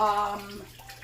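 Capers being rinsed under a running tap, a short splashing water flow that is loudest at the start and then fades, with no talk.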